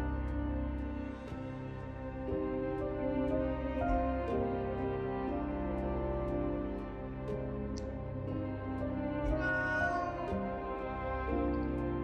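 Cat meowing in the video game Moonscars, repeated harmonic meows over a steady tonal background, fairly clear and sustained across the stretch.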